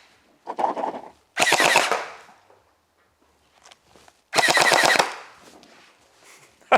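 Gel Blaster toy gun firing in two rapid bursts at cardboard boxes, each a dense rattle of shots lasting about a second, with faint clicks and handling noises between.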